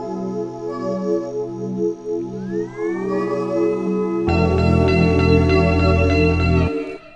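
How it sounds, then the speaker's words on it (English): Ambient synth music with sustained tones and chords, shaped by a Kilohertz Tape Stop plugin: notes bend and glide in pitch like a reel-to-reel tape changing speed, then the full, loud texture cuts off abruptly near the end. "I have a cool little tape stop effect that's going on."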